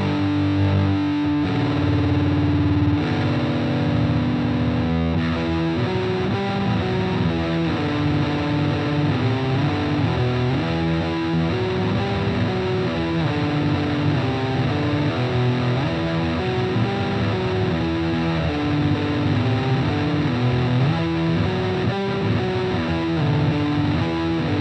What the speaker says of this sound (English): a harder sound between the Telecaster pickup and the Strat pickup